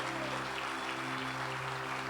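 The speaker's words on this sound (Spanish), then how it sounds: "Dale un aplauso fuerte al Señor." A church congregation claps during a worship service, a dense continuous patter of applause over a low sustained musical drone.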